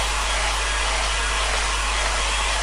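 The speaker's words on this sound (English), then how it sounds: "I'm using the hairdryer." A hairdryer blowing on a wet watercolour painting gives a constant, loud, broadband whoosh held steadily close by, with no breaks and no talking.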